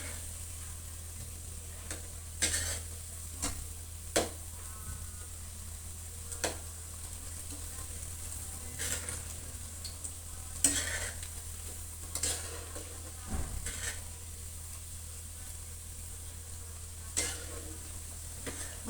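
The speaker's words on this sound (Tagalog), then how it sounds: "Haluin. Para kumantay ang asukal." Bananas and sugar being stirred in a frying pan for bananacue, a spatula scraping in repeated short strokes over a steady oil sizzle, close and alone with no talk.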